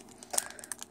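Brief crinkling of plastic wrapping on vendor wax melts, a few quick close rustles and crackles lasting under a second.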